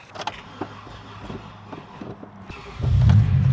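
A car with a weak battery cranks with faint irregular clicks and whirs, then the engine catches with a louder low rumble near the end, with no talk.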